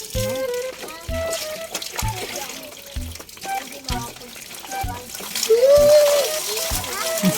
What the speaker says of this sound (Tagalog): habang inihintay nyo ay ako'y maliligo ho muna